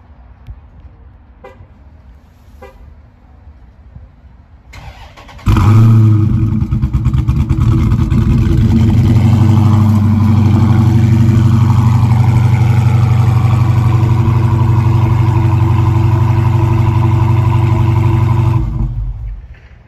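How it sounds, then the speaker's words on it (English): A 2017 Dodge Charger Scat Pack starts via its factory remote start after a few faint clicks, firing up with a loud burst and settling into a deep, steady, rumbling idle that holds for about thirteen seconds before cutting off. "This does have factory remote start."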